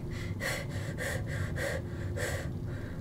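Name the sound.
heavy breathing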